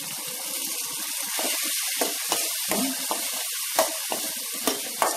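Garlic, onion and tomato sauté in a pan for a Tamil kara kuzhambu, giving a steady wet sizzle with a few sharp spoon scrapes and clinks spread through, close by and without talk.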